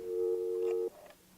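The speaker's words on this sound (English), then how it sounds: "Mr. Scott dials a local call." A hotel-room telephone placing a local call gives a steady, loud electronic tone for just under a second, then cuts off abruptly, leaving faint room noise.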